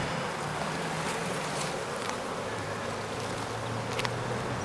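Honeybees in an active hive drone in a steady, dense buzz that holds close and even throughout, with a few faint clicks and knocks from the open hive boxes.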